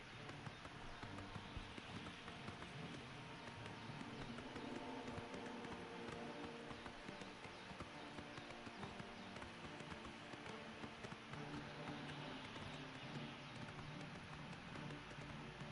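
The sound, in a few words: horse hooves clip-clopping, video game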